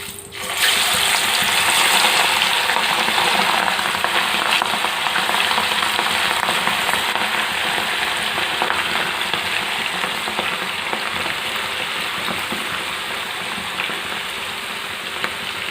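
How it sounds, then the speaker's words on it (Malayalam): Chicken pieces for a biryani chicken curry fry in hot oil with a loud, steady hiss and crackle. It starts abruptly and holds constant for the whole stretch, with no talking. "നമുക്ക് ഈ എണ്ണയിലേക്ക് ചിക്കൻ പീസുകൾ ഓരോന്ന് ഇട്ട് കൊടുക്കാം."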